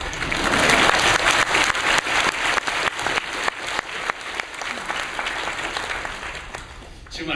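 A church congregation applauds as a pastor comes forward, dense steady clapping from many hands filling the room, fairly loud and continuous, tapering slightly toward the end.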